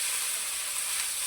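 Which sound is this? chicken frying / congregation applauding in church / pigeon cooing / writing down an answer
chicken frying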